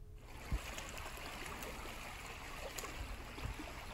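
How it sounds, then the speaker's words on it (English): Water flows in a creek in the African countryside, a steady, faint, soft trickle and gurgle that continues evenly throughout with no voices. "We make our way over a creek"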